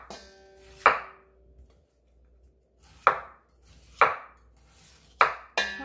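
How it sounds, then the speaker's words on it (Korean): A knife coarsely chopping Korean radish for seokbakji on a board: five sharp, loud, close chops spaced by uneven pauses, with no talking. "3kg를 이렇게 듬성듬성 썰어주세요."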